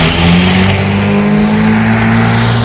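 A Black & Decker cordless battery-powered electric mower cuts through tall grass with a loud, steady motor whine and blade roar that bogs down slightly under the load. It sounds close and continuous, with no talk over it.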